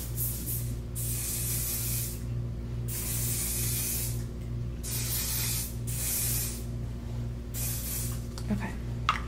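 Hairspray misted over curled hair in a mermaid-style makeover, with repeated long hissing bursts of a few seconds each, close and loud, over a steady low hum.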